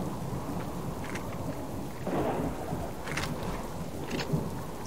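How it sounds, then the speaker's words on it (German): Rain falls steadily during a thunderstorm in the survival game Subsistence, with a rolling rumble of thunder swelling midway and a few brighter crackles over the constant wash of rainfall. "Gewitter."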